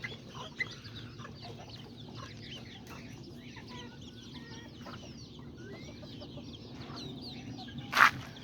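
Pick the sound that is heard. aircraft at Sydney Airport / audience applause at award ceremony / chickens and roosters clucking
chickens and roosters clucking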